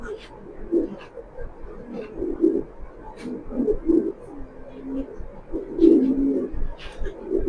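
Racing pigeons coo in a repeated series of soft, throaty calls, close by and moderately loud, with faint background noise.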